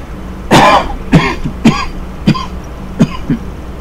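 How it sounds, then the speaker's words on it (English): A man coughs hard and close, one heavy burst followed by several smaller hacking coughs spaced roughly half a second apart. "Coughing, I swear."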